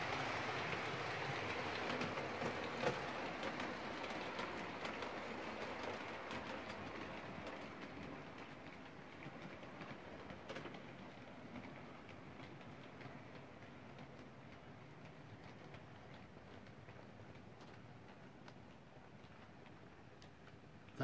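An OO gauge model train locomotive runs along its track, a soft, faint rolling hum with light repetitive ticking and clicking from the rails, steady and continuous throughout.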